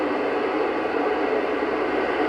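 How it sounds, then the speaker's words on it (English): Steady broadband radio static from a ham radio receiver tuned toward the International Space Station repeater, a loud, even hiss with no signal breaking through. "No, you're going to hear static."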